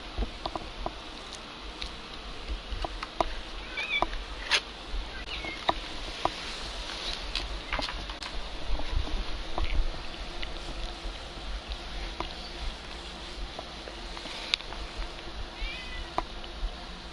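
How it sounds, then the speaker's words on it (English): A hungry pet cat meows in short, scattered calls over a steady background hum and faint insect-like buzzing, with no talking. "Kitty cat's hungry."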